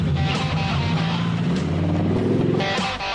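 A 1996 Impala SS fitted with an LT5 engine and a custom stainless steel exhaust with catalytic converters rumbles loudly and close, its deep engine note rising briefly as it revs.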